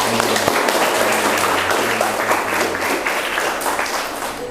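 A classroom of students applauds a classmate's answer during an Islamic religious education lesson, a steady patter of clapping with a low hum beneath it.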